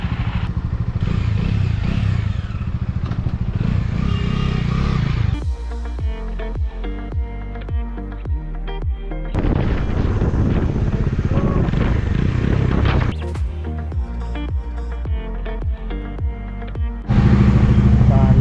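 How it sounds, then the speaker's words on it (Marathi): A Bajaj Dominar motorcycle engine, jump-started from a battery, idles close by with a steady throbbing rumble, alongside some clattering and a person talking at times. "ही गाडी चालू झाली आहे, बॅटरीने जम्पिंग केली"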